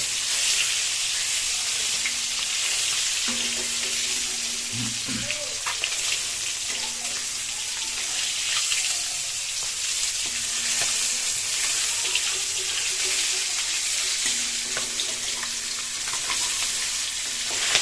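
Three eggs fry in hot oil in a pan, giving a constant close sizzle with light bubbling and a few faint clinks, steady throughout with a voice murmuring faintly underneath.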